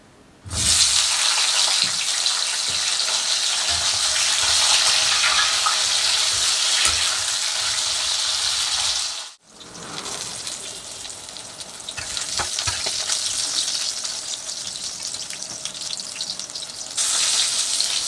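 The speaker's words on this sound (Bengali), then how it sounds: "এবার আমরা পটলটা ভেজে নেবো" Pointed gourd (potol) pieces frying in a pan, with a steady loud sizzle that runs alone, breaks off briefly midway, then resumes with occasional stirring clatter.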